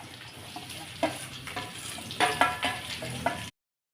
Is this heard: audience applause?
no